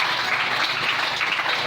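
A church congregation applauding in praise of the Lord, a dense, even wash of many hands clapping together, sustained and moderately loud with no speech over it.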